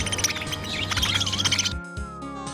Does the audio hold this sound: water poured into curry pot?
no